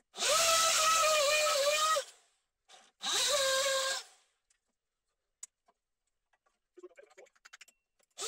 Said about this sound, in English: now I try to clamp it to the first block and see whether I can drill both holes